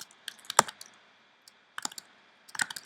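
Typing on a computer keyboard while entering CSS code, short bursts of crisp close key clicks separated by a quiet pause.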